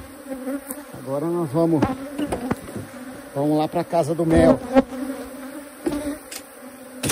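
Honeybees buzzing around a full honey super, a steady close drone of many insects while someone speaks intermittently over it.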